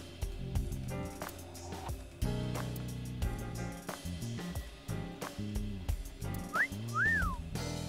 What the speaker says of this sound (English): I thought I told you to stop with the wolf whistles.